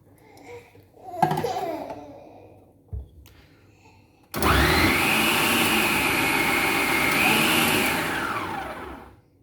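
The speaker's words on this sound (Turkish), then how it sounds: "Şimdi devam ediyoruz ince tarafta rendeleyeceğiz." Siemens MK3501M food processor grating potato on the fine side, starting abruptly and whirring loudly for several seconds before winding down, after brief chatter and laughter.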